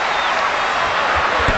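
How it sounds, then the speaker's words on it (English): Basketball arena crowd cheering on a free throw shooter, a loud broad roar of voices and applause that holds steady over a brief moment. "The crowd trying to pump him up."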